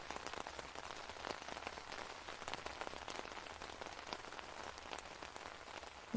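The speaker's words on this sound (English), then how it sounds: "It's just the rain." Rain falls on a tent in a steady, soft patter of many small drops, quiet and close, with no voices.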